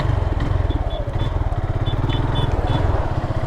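A Suzuki Gixxer motorcycle pulls away and rides on, its engine pulsing in a fast steady throb close to the microphone with light whistling tones above and no talking.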